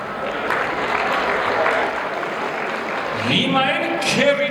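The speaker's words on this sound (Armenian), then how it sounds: "Ես հիմա խնդրում եմ, բարձր ծափահարություններ հոր" Guests at an Armenian family celebration clap for the paternal uncles, a steady wash of applause under a speaker's amplified voice, which becomes clearer toward the end.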